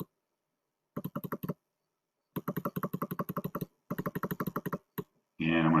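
Typing text into Google Slides on a computer keyboard, with quick close bursts of key clicks separated by short pauses and a brief louder rustle at the end.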